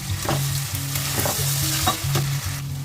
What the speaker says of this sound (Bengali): পেঁয়াজটা দিয়ে ভালো করে একটু ফ্রাই করবো যতক্ষণ ব্রাউন কালারটা না আসে